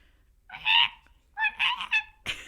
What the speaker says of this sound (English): they played the noise of the Fisher cat